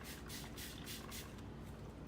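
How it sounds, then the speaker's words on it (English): A spray bottle mists water onto headlight protectant film, giving several short, close hissing bursts in quick succession over roughly the first second and a quarter, then quieter fizzing, with no talking. "So I'll pull back this corner and give it a good spray."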